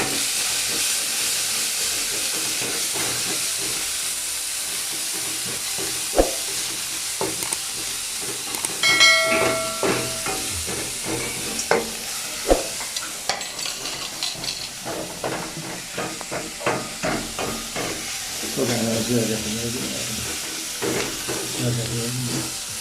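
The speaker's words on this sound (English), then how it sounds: "You stir it very well into the pan" A vegetable patty mixture with coriander leaves is stirred in a frying pan, producing a steady hissing sizzle with scraping strokes and a few sharp knocks, growing busier and more rhythmic toward the end.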